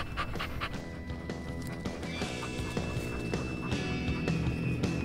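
A hunting dog pants rapidly in hot weather on a Spanish partridge and rabbit hunt, quick rhythmic breaths close and steady over outdoor background noise, with no talk.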